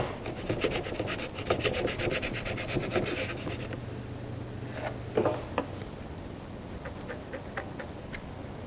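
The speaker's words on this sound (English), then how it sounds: "I'm just going to use my block plane to flatten that surface." A block plane rasps repeatedly across the surface of a wooden arched rail held in a mold clamped to a workbench, giving steady close scraping strokes with a few sharper catches, moderately loud and without talk.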